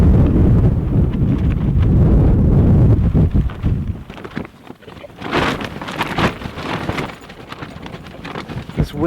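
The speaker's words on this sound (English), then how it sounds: "with all the noise from the wind" Strong wind roars and buffets against a shelter or vehicle, a dense loud rush that eases midway and then returns in gusty, rattling surges.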